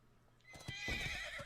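A horse in a Hearthstone-style card game lets out a loud whinny with hoof clatter, rising from near silence into a bright, drawn-out neigh.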